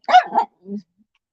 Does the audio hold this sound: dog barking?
yes